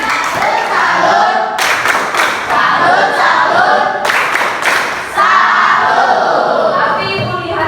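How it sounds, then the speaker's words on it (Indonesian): A classroom of students claps together in loud, sustained applause, with bursts of cheering and shouts rising over the clapping, which pauses briefly and then picks up again. "Kasih tepuk tangan."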